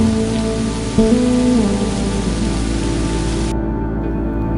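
Steady rain falls in a dense, even hiss, loud and close, accompanied by a low sustained hum and a brief tonal glide near the start.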